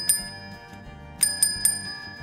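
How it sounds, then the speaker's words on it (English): Colored toy bells ring in bright, short strikes: a single ding, then three quick rings close together, each ringing briefly over a soft background tune. "look at these colored bells"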